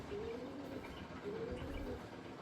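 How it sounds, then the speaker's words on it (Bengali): An old Giribaz pigeon kept at home coos faintly, with two soft drawn-out calls over a low, continuous background rumble. "ঘরের একটা গিরিবাস পায়রা দেখুন, পুরাতন পায়রা"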